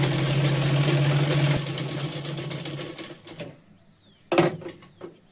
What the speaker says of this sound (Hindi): ये देखिए अब हमने बेल्ट को भी साथ में सिलाई कर लिया